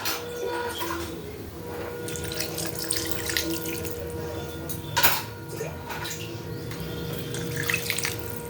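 Water pours steadily into a cooking pot of raw jackfruit and prawn curry being made just enough to boil it, a continuous close splashing stream with no voices.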